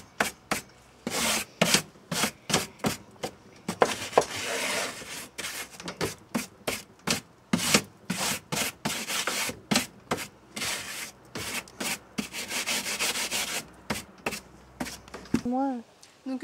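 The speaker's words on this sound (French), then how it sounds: "là avec le chiffon, je vais continuer à tout retirer" A cloth wiping a guinea pig cage in rhythmic, close rubbing strokes that repeat at a brisk, even pace, with a voice heard briefly at the very end.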